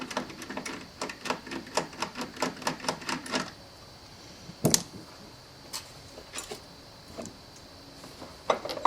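3/8 drive socket wrench with an extension loosening a car battery retaining bolt, giving quick runs of sharp ratchet clicks that stop, then a few scattered metallic clicks and taps.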